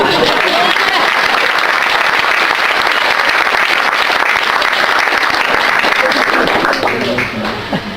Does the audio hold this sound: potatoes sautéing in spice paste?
no